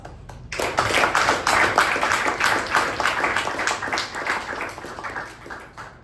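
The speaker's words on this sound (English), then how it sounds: "let us start off this special meeting with a nice round of applause" A small group at a Toastmasters meeting claps, a modest round of distinct hand claps starting abruptly and continuing fairly evenly, moderately loud, with no voices.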